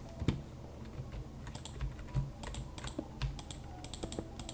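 Computer keyboard keys pressed repeatedly while playing a Minecraft-style survival game, irregular close clacks and taps over a steady background hum, with no talking.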